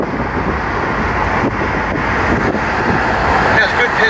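A 1991 Pontiac Trans Am convertible cruising along a road at about 45 mph, with a steady, loud roar of wind and road noise running unbroken throughout.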